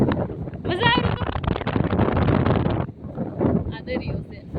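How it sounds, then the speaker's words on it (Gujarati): Strong wind rushes across a seashore where small boats sit, buffeting the microphone in loud gusts while someone talks over the roar. "અને આ કુસોમાં એટલો બધો પવન છે"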